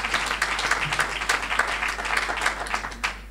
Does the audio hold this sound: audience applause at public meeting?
yes